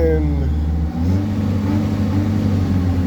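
A 1986 Chevy Chevette's engine runs loud and close with a steady low drone, the pitch rising and wavering as it revs before settling toward idle.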